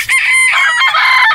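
A broodstag fighting rooster crows loudly and up close, one sustained cock-a-doodle-doo filling the whole brief moment.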